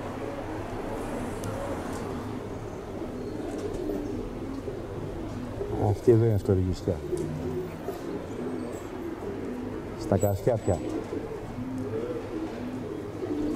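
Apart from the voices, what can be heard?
pigeons cooing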